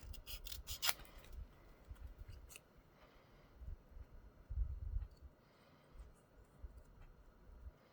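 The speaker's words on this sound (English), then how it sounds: "Just cut along your pencil mark." Scissors snip paper along a pencil line while making a paper puffin treat box, giving quiet close cutting and rubbing sounds in short bursts, with a few sharper crisp snips early on.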